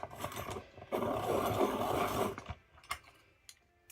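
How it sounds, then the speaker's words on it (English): A pencil sharpener grinds steadily for a second or two, then gives a few short scraping turns and clicks, close and fairly quiet, with no talk over it. "I do need my pencil sharpener."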